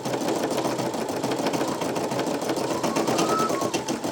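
Two Brother embroidery machines stitching the same design, giving a steady, dense mechanical whir with a fast rhythmic needle chatter, loud and continuous throughout.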